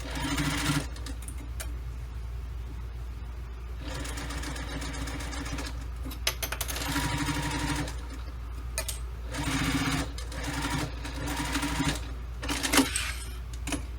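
A sewing machine stitches a 3/8-inch seam on a business bag. The motor whirs and clatters in long near bursts, separated by short pauses.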